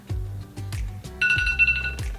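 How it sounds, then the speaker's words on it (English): An electronic timer alarm goes off at the end of a five-minute makeup routine. A bright, rapid beeping starts partway through and rings for under a second over low background sounds. "There is the timer."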